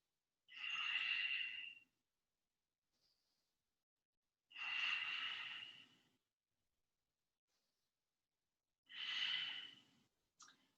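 Three long, slow breaths during an advanced vinyasa yoga pose, each a soft airy exhale through the nose close to the microphone, evenly spaced with near silence between them and no talking.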